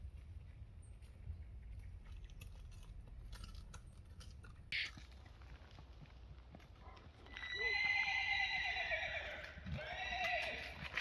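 A horse at a forest campsite gives a long, wavering whinny that swells and fades, heard at moderate distance over quiet outdoor ambience with faint rustling.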